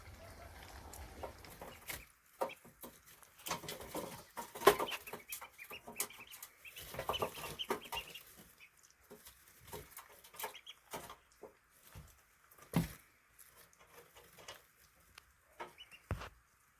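Two-day-old pet ducklings peep and chirp in quick bursts, with scattered soft calls between louder clusters, heard up close.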